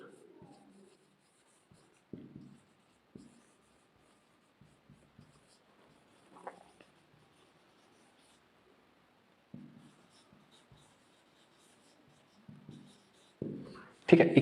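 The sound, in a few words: writing an equation by hand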